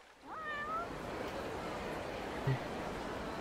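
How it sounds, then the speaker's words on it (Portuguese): A kitten in the video game Like a Dragon: Gaiden lets out one clear, rising meow, close and fairly quiet, over soft ambient background noise. "É um gatinho."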